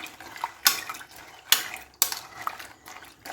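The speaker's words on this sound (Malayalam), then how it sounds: "നന്നായൊന്ന് മിക്സ് ചെയ്ത് കൊടുക്കാം." A spoon stirs chickpeas in water inside a metal pot for Kerala-style curry: three sharp, close clinks of metal on metal stand out over softer scraping and sloshing in a quiet kitchen.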